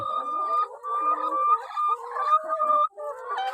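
Laying hens cluck and chatter continuously at close range, several birds overlapping in a busy, steady flock sound with no speech.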